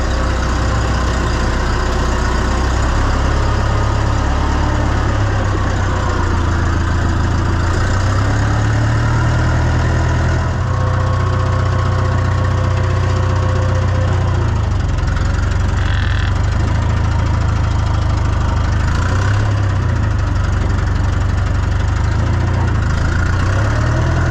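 A John Deere 2020 tractor engine idles steadily for the whole stretch, a loud, even, low mechanical rumble with a slight knock and no voices over it.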